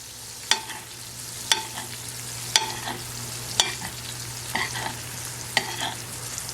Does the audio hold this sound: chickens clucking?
no